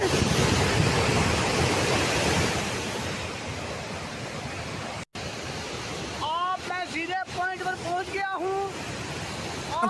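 Floodwater after a cloudburst in Kashmir rushes loudly as a dense broadband roar, which drops away partway through to a quieter background under a few short tonal chirps.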